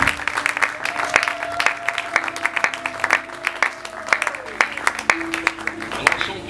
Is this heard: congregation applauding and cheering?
yes